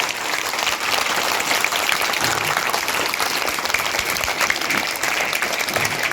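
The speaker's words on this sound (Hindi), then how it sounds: "बच्चों के लिए बहुत सारी तालियां बजाओ, जोरदार तालियां" Loud, continuous applause fills the room at a farewell ceremony as children and guests clap together, a steady dense patter with no speech on top.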